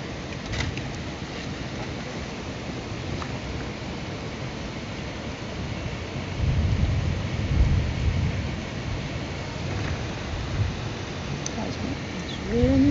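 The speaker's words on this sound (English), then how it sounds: "I'm gonna show you guys how hard it's raining here" Heavy rain pouring steadily with a low rumble of thunder, a constant broadband wash that swells midway and stays loud throughout, with no talking over it.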